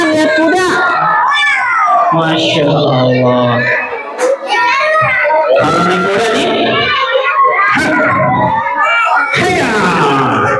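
A group of children imitate a horse with their voices, loud, close, overlapping whinny-like cries that rise and fall in pitch, sometimes shrill and strained, with a brief dip in the middle.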